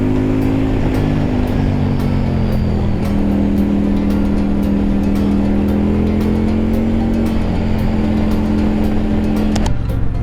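A 2022 Indian Pursuit motorcycle's engine runs loud and close with a steady deep drone, its pitch lifting slightly as the throttle is opened and held, continuous throughout.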